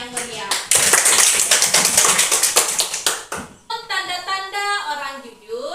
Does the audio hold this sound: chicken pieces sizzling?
no